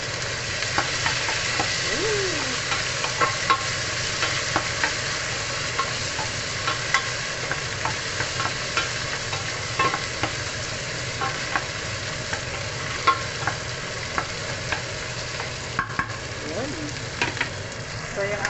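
Tomatoes sizzle and fry in an oil-filled pan while cooking salmon belly sinigang, a steady crackling hiss with occasional stirring scrapes, close and continuous throughout.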